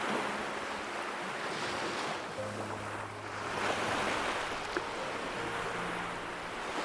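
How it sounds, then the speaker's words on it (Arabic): Sea waves wash onto a shore in a continuous surging hiss that swells and recedes, with some wind noise. No voices. "وصوت البحر لما بتقعد على الشط وتسرح معاه"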